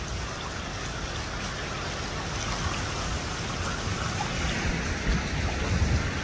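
Water flows through a tiny creek where river redhorse fish are spawning, a steady close rushing wash that swells slightly toward the end, with no talking.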